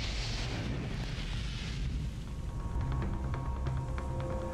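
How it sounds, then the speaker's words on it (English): A deep, rumbling blast from an explosion on the Piper Alpha offshore oil rig, a heavy low roar with a hissing, windy wash that rolls on and then settles into a lingering rumble. "an explosion rips through the Piper Alpha oil rig"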